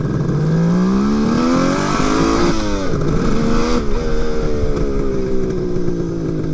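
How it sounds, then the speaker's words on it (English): Close, loud engine of a Suzuki GT550 two-stroke triple motorcycle while riding, revving up through the gears with rising, falling pitch sweeps, a continuous buzzy roar throughout. "It's like riding 3 two-stroke dirt bikes at the same time."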